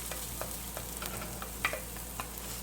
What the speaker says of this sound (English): I'm sauteing away